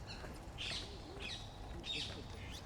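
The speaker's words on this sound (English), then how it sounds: "can you hear the crows? They're noisy, aren't they?" Crows caw in a large cemetery. Three harsh, separate calls come from a moderate distance over quiet outdoor ambience.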